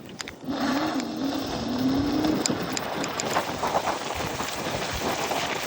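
An Ff 2.0 Black Edition RC car is run at full throttle, its electric motor whine rising in pitch for a couple of seconds over a steady, loud rushing of wind and tyre noise.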